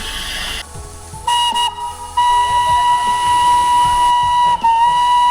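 A shrill, sustained whistle from a Darjeeling toy train engine blows loudly, cutting in and out over a rumbling, hissing engine background with no talking.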